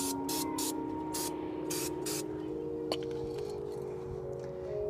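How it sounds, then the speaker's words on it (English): Brake cleaner sprayed onto dirty coilover threads: several short hissing bursts of aerosol spray at close range, repeated in quick succession over a faint background hum, with one small metallic tick. "So we're gonna just use some brake cleaner to spray it out, get some of the dirt off of this."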